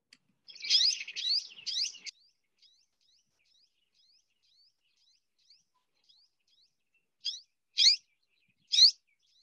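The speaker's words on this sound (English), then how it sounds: "We have sunbirds. All right, purple sunbird." Purple sunbird calling, a quick run of sharp high chirps, then a string of faint thin ticks, and three more loud separated chirps near the end, clear against silence.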